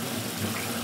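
In a children's cartoon, water pours steadily into a homemade rocket-engine experiment, a brief continuous gushing splash heard alone.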